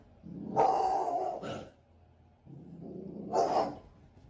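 A dog gives two bursts of barking mixed with low growling, close by and fairly quiet, with a brief lull between the outbursts.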